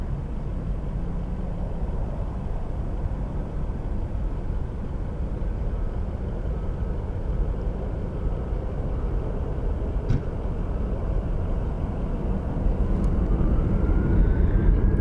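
An airliner landing on runway 26 at Phoenix Sky Harbor International Airport: a steady, loud, broadband engine roar with a deep rumble that swells slightly toward the end, with no talk.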